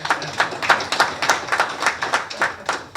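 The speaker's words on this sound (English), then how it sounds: "Clap for them." An audience at a speech about African heritage claps in a loose, rhythmic pattern, a few distinct bursts per second, moderately close and without talk over it.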